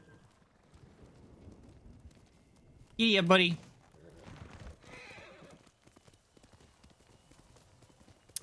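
A horse in the video game Ghost of Tsushima whinnies sharply and loudly, followed by a softer snort and faint hoof clops, while someone talks quietly in the background.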